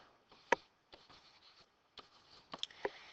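Pencil sketching a geometry diagram on paper, several short scratchy strokes and taps in quick irregular bursts, close and fairly quiet with no talk.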